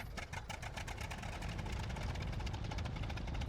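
A WWI-era aircraft engine runs at idle in a flight simulator, a steady low throbbing drone with a rapid even pulse, close and constant without speech.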